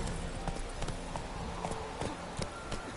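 Roach, Geralt's horse in The Witcher 3: Wild Hunt on PS4, trots with a steady, rhythmic clip-clop of hooves, fairly close and continuous over a low background.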